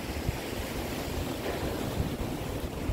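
Ocean waves break on a sandy beach near rocks, a loud continuous wash of surf with wind buffeting the microphone and no voices.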